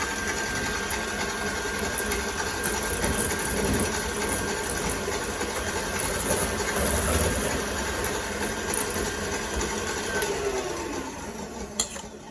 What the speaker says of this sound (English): we're gonna whip the eggs until they're kind of a light yellow